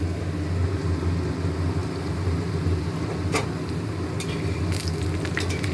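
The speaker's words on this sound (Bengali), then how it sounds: "ভাজা হয়ে গেছে আর এটা আবার বসিয়েছি, ভাজা হচ্ছে আর একটুখানি আছে" Bora fritters sizzle steadily in a pan of hot oil, a dense close frying crackle with a few sharp clicks and scrapes, no one speaking.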